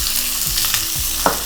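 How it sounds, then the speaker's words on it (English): Onions frying in hot oil in a home kitchen pot for lentil soup, a steady close sizzle with soft stirring clatters and scrapes on top, no voices. "We want noise, we want the sizzle"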